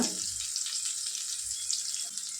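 Onions frying in a pan for a noodle dish, a steady close hiss of sizzling oil that runs unbroken throughout at moderate level, with no talking.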